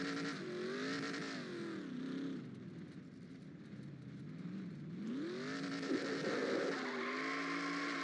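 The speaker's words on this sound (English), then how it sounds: "There he goes, going to go do the burnouts here" A race car in the NASCAR Racing 2003 video game, the #46 Daytona 500 winner, does burnouts: a loud, continuous engine roar with rising and falling revs, swelling again near the end with hints of tire squeal.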